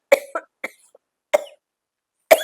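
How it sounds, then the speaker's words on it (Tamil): A person coughs close by in five separate, sharp bursts, spaced irregularly with silence between them. "இருமல் வருது."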